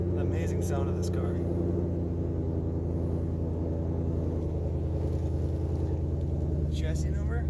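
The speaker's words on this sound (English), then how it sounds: "The amazing sound of this car." A 2022 Ford Mustang Shelby GT500 Heritage Edition Track Pack engine runs at a steady, low idle rumble, continuous and fairly quiet, with a few faint clicks on top and no spoken voice.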